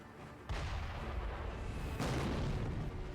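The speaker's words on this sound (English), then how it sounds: "So that is a cannon." Cannon firing in Sekiro, two heavy booming blasts about a second and a half apart, each followed by a long rumbling roar that fills the space loudly.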